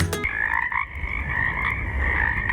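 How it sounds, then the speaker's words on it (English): A chorus of frogs croaking steadily in a wooded ravine with small ponds, many voices layered into a continuous trilling drone after a brief sharp opening sound. "Stop and listen, and be serenaded by a chorus of frogs"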